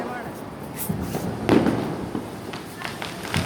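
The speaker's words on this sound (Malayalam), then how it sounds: "പടക്കം പൊട്ടിക്കുന്നുണ്ട്." Diwali firecrackers burst out on the roads, sounding as muffled distant pops and a thump over a noisy background murmur.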